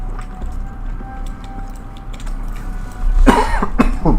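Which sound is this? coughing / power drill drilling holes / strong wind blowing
coughing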